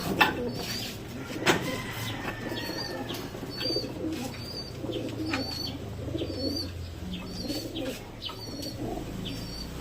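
Pigeons coo repeatedly in soft, low warbling phrases, with a few brief wing flaps and chirps over a faint outdoor hum.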